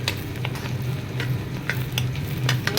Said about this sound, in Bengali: ভালো করে একটু ভাজা হোক।